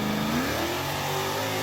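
A Jeep engine revving hard off-road in mud, a loud, close, continuous roar whose pitch climbs and then holds as it accelerates.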